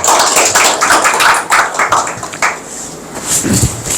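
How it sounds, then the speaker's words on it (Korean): Scattered, uneven hand claps from a small audience in a Korean university lecture room thanking the lecturer, close and fairly loud, thinning out over a few seconds. "저희 박사님께 박수 한번 더."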